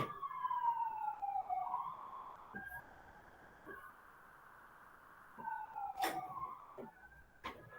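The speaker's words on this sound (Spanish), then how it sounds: "No sé si escuchan unas sirenas o no se está metiendo ese ruido" Emergency vehicle sirens pass outside a house, wailing tones sweeping down in pitch, fading and returning, moderately distant, with sharp clicks and faint background noise.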